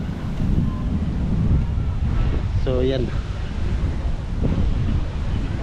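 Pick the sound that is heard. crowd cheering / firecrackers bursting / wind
wind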